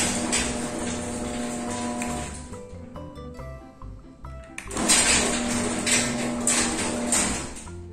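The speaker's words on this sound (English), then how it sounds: "I'm gonna go ahead and try to open up the garage door again." A residential garage door driven by a smart WiFi opener (Lomota or Meross) grinds and rattles along its track, a loud steady mechanical whir that dips briefly midway and then resumes, with no talk.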